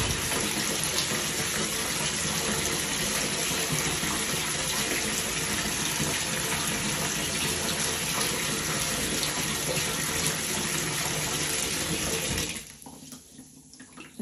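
Bathtub filling from the tap, a loud, constant gushing rush of water that runs unbroken for about twelve seconds, then cuts off, leaving quiet room sound.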